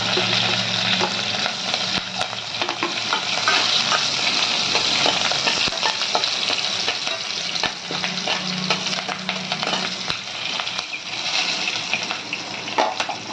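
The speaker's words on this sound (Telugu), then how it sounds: "ఇదండి కొంచెం వేగేవి పచ్చిమిరపకాయలు కూడా కొంచెం వేసాక మెంతాకు వేసేస్తున్నానండి" Green chillies frying in oil in a pan for a fenugreek leaf chutney, a close, steady sizzle with stirring scrapes throughout.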